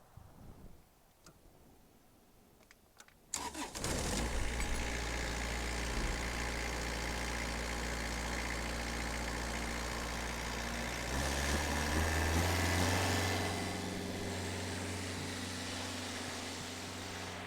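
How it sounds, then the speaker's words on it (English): A Stepp 10-120 asphalt patcher's 4-cylinder Kubota diesel starts after a few seconds of quiet, then settles into a steady, loud idle with a slight rise in pitch near the end. "This particular unit's powered by a 4-cylinder Kubota diesel motor."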